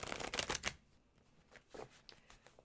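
A tarot card deck is shuffled and cut, giving a dense burst of riffling card flutter up front, then quieter separate card slaps and flicks after a short pause.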